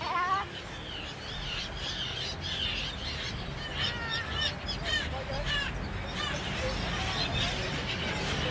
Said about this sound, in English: and of course masses of seagulls and cormorants